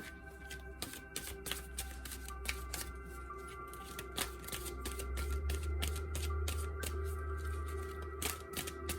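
Tarot cards are shuffled steadily by hand, a close run of rapid riffling taps and flicks repeating for several seconds with no talk.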